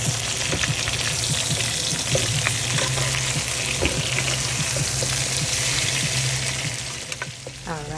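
Shallots, garlic and peppers sizzling in a pot of hot oxtail drippings, a loud, steady crackling fry with occasional pops and stirring scrapes that eases off near the end.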